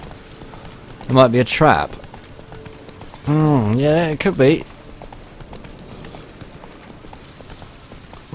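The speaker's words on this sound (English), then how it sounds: "the horse riding in this is so difficult." Horse hooves gallop in The Witcher 3, a steady, quiet clip-clop running beneath two people talking.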